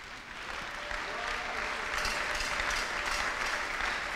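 A church congregation applauding together in a steady, continuous wash of clapping that swells slightly and holds, with voices mixed faintly underneath.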